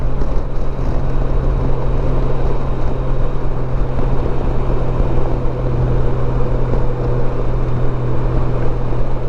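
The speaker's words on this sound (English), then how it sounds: "It's holding 5th, and just engine braking all the way down." A vehicle holds fifth gear while engine braking down a long hill, producing a loud, steady low engine drone with road rumble that stays constant throughout.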